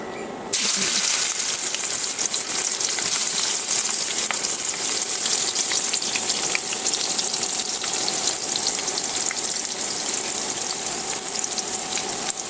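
Onions hit hot oil in a kadai and fry with a loud, continuous hiss that starts abruptly and holds steady, close and alone, while aloo bhaja is being made.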